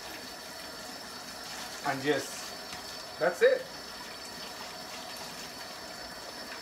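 Hot water runs steadily from a tap while juicer parts are rinsed, a constant hiss and splash with a person briefly talking over it.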